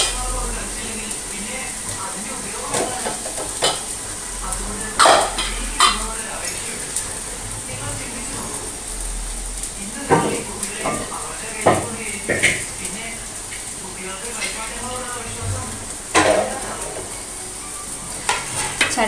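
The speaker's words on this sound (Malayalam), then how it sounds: "ഇന്ന് ചട്ടിയിലാണ് കേട്ടോ ഞാൻ തേങ്ങ വറക്കുന്നത്." Grated coconut roasting and being stirred in a pan for eggplant theeyal, with a steady low sizzle and repeated scraping and clinking of a spoon against the pan, close and fairly loud throughout.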